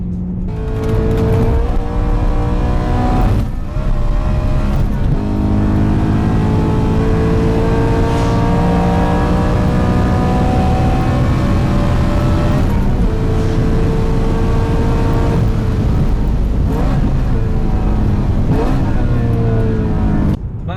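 A loud BMW M3 E92 engine with a loud setup revs hard and continuously on a track, its pitch climbing and dropping through gear changes, sounding like a race car at speed.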